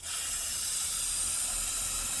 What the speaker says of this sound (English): we might spray a bit of squirty stuff in that, I think. Just a bit of silicone